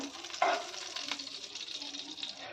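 A spoonful of ghee melts and sizzles in a pan, the start of a beetroot finger millet halwa, with a steady soft hiss, a couple of stirring clinks, close and alone.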